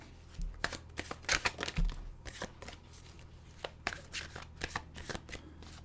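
Tarot cards are shuffled by hand in a quiet room, a rapid run of crisp riffling bursts and soft slaps, close and fairly faint, with irregular pauses between the flurries.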